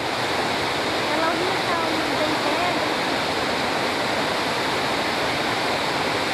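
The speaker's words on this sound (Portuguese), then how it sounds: "Uma cachoeira que forma na queda desse braço aqui" A waterfall forms where a branch of a river drops beside a road. Its loud, steady, broadband rush of falling water runs unbroken and alone for the whole stretch.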